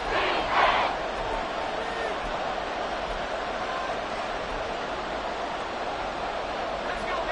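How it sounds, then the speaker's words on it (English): Stadium crowd roar from the Madden 23 football video game during a Panthers goal-line drive. A dense, steady wash of crowd noise fills the whole stretch, with a slightly louder swell near the start and no clear talk. "This crowd doing all they can."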